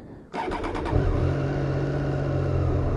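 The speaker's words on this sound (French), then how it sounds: "pour démarrer la moto, embrayage, et c'est parti" A Triumph 765 Street Triple R motorcycle engine starting: a quick starter whir and catch, then the engine settles straight into a steady, loud, close idle.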